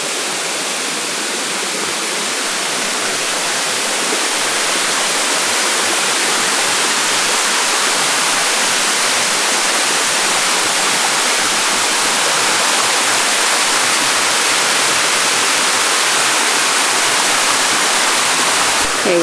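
River water rushing near a waterfall in a forest, a loud, dense, unbroken roar of flowing water filling the whole stretch with no voices over it.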